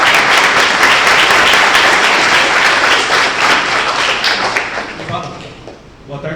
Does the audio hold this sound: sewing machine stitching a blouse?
no